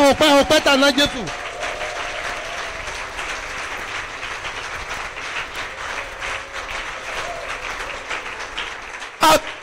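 Congregation in a church service cheering loudly and applauding, a dense sustained roar of clapping and shouts filling the room after a brief voice at the start, with a sharp burst near the end.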